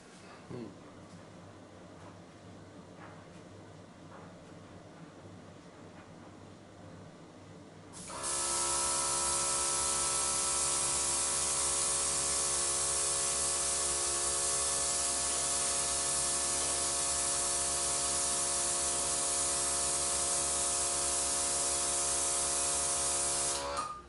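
Quiet room tone, then an airbrush starts spraying blue paint onto a model Mustang RC plane with a steady, loud hiss that continues unbroken for the rest of the clip.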